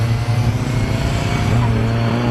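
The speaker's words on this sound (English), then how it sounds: "That's a very rough sounding VAG group engine in the back of that Fun Cup car" A rough-running VAG group engine in the back of a Fun Cup race car at a circuit drones loudly and steadily from start to end, with a coarse, uneven note.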